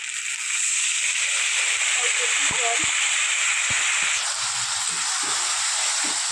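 Chilli, turmeric, cumin and coriander powders sizzle and hiss steadily in hot oil as they are sautéed for a fish curry, a continuous close frying sound with a few clinks of a spoon against the pan.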